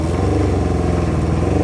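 A 1978 Kawasaki KZ650 motorcycle engine is held at raised revs, producing a loud, steady, close-up drone with a slight rough pulsing and no break.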